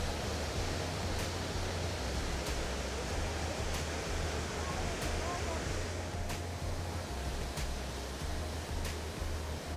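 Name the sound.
rushing river water in a canyon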